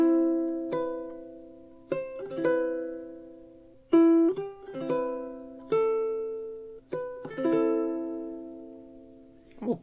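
Solo ukulele fingerstyle playing the opening bar of a song, clear plucked notes with sustained chords, about eight distinct attacks at an unhurried rhythm, close and alone.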